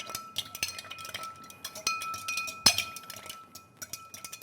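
A Maker's 46 Manhattan is stirred with ice in a glass: a steady run of close, light clinks and rattles with a few sharper knocks against the glass, and no talking.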